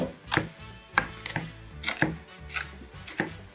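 A knife chops fried garlic on a board in a series of sharp, close knocks at an uneven, moderate pace.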